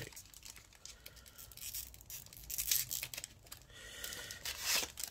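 Crinkly foil trading card pack is torn open in short ripping bursts, with crumpling between pulls, close up and fairly quiet.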